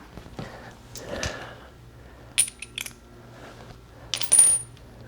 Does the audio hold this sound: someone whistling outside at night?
no